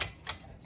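A 1964 Smith-Corona Classic portable typewriter is typed on at close range, giving a few sharp, quick key strikes with no voices.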